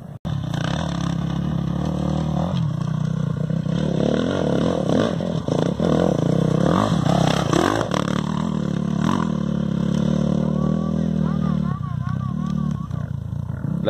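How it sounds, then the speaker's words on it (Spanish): Motorcycle engines at a Baja 500 off-road race sound near and loud, revving and rising in pitch over a continuous rumble, while spectators shout and talk excitedly over them. "Se le dio para la moto, pero ya le prendió."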